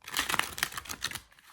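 A deck of Empyrean Tarot cards is shuffled close up, giving quick rapid riffling clicks and papery flutters in a burst that fades out at the end.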